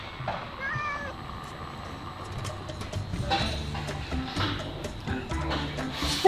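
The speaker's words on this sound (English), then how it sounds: "Why are you meowing?" A pet cat named Bombi meows in a garage during a truck build, a few short mewing calls near the start amid faint shop clatter and background noise.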